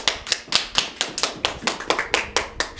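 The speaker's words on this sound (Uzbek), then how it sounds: "Hammalari siz uchun bitta qarsak chalib berishadi." Family members seated together clap for a mother at a home gathering in Olot, Bukhara: a steady round of close, brisk applause with many overlapping hand claps and no talking.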